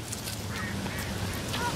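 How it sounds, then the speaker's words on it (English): A flock of ducks quacks close by outdoors, with harsh overlapping calls in constant rustling background noise over a couple of seconds. "We're being attacked by ducks, guys."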